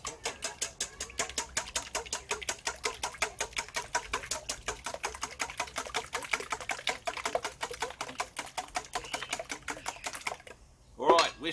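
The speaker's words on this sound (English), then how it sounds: "First of all, let's just give them a bit of a whisk." Eight eggs whisked in a bowl for bread pudding, a fast, steady clicking rhythm of whisk against the bowl running close and continuous for about ten seconds before stopping with a brief clatter.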